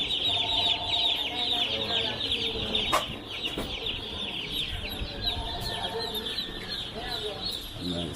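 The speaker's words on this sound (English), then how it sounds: "young chicks peeps" Young chicks keep up a dense, shrill chorus of peeping at close range, with chickens clucking lower underneath and a faint murmur of voices in the background.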